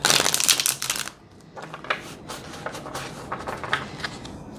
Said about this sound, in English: As I shuffle the cards and set up the reading